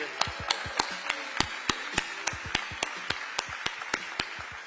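An audience applauds fencing athletes at a demonstration at LA City Hall, sharp, sparse individual claps ringing out at a steady pace, fairly close and fairly faint.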